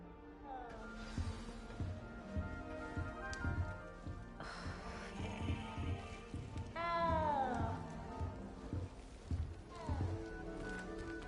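A cat meows in a Hogwarts video game: a few rising-and-falling mews over busy game ambience and background music.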